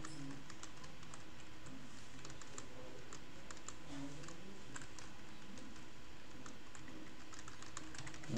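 A faulty computer keyboard whose keys register on their own gives off steady, rapid clicking and tapping in a quiet room, continuous across the whole stretch with no talking.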